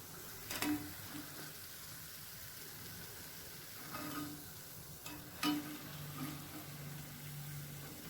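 Wheat flour dough fries in hot oil with a soft, quiet sizzle and bubbling, broken by a few light clinks and scrapes from a utensil; no one speaks.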